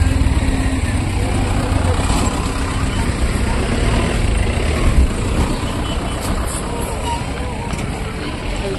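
Dense traffic on a busy road in Siliguri, a steady loud rumble of truck and car engines with no breaks, a voice faintly audible beneath it.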